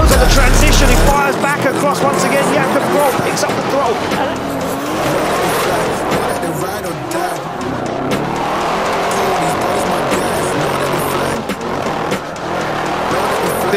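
S55 DCT drift cars running wheel to wheel at Ferropolis Drift Island, with loud, sustained engine roar and tire squeal through the whole run and a commentator talking over it.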